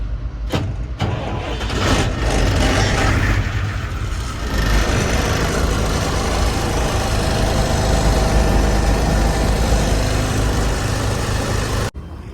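A truck engine cranks on its starter with a few sharp bursts, catches, and settles into a loud, steady idle that runs close by until it cuts off at the end.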